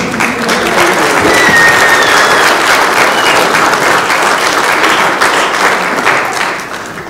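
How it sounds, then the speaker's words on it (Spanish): Loud, close applause from wedding guests, a thick wash of many hands clapping continuously and fading off near the end, with a few faint whistles or cheers mixed in. "Un aplauso al Señor."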